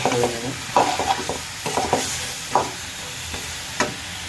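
Cut potatoes are stirred with spices in a hot frying pan: a low steady sizzle under irregular spatula scrapes and knocks, close and fairly loud, with no voices.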